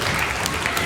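A wrestling crowd cheers and claps steadily at a pro wrestling show, a dense, loud wash of applause and shouting filling the whole moment without a break.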